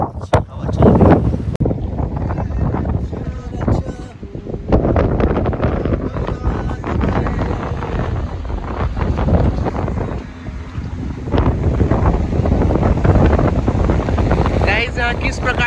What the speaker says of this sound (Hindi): यहाँ किस प्रकार से हवा चल रही है आप लोग देख सकते हैं।